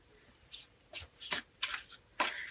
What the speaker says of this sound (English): I'm going to just do a quick shuffle.